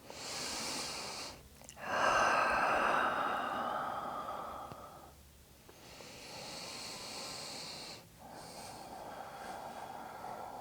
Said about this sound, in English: Long, deep breathing.